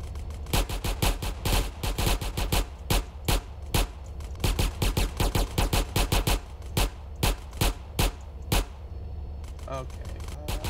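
Rapid bursts of gunfire in Grand Theft Auto: San Andreas, loud and near, crack out in quick irregular volleys with short pauses over steady game background noise.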